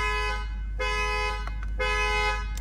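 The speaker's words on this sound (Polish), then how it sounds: "Dodatkowo auto zaczyna trąbić nam klaksonem." An Audi RSQ8 with a CANlock anti-theft system sounds its car horn in two sustained blasts separated by a short gap, loud and close over a low steady hum.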